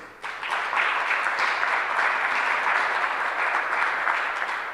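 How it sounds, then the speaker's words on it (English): An audience at the launch of SAHRIS 2.0 gives a big round of applause for the speaker Nick, with dense clapping that swells in quickly after a brief lull and holds steady throughout. "Give him another big round of applause."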